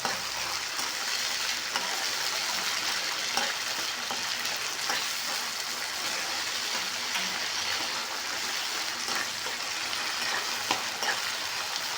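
Vegetables being stirred in a pan while cooking uppittu, a continuous crackling sizzle with scraping spoon strokes and faint clicks throughout, close and alone with no talk.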